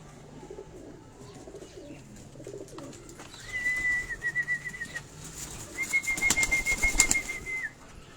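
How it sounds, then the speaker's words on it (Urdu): Pigeons on a rooftop in Pindi, with whistling calls and wing flaps rising in two bursts over soft cooing and faint background noise, fairly close and moderately loud. "اور یہ اگر آپ یہ پیچھے اس کبوتر کو دیکھیں"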